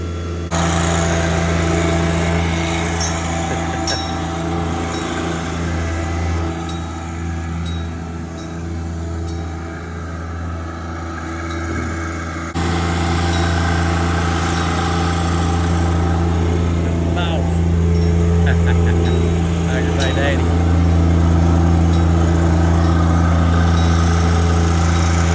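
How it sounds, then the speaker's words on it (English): A small tractor engine runs steadily and close by throughout, a continuous droning hum with a slight shift in tone midway, while people talk over it. "Then they let you borrow the little tractor."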